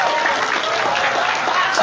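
An audience claps at a heated public meeting, giving a brief burst of dense, loud applause from a crowd with some voices mixed in.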